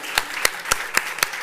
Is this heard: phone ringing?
no